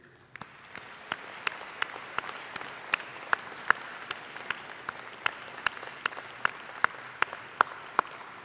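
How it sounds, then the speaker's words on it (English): Sparse, steady handclaps from a convocation audience for the graduates' supporters, evenly spaced single claps with a soft crowd wash beneath, moderately distant and fairly quiet. "I would now like you to join me in a round of applause for those who have supported you"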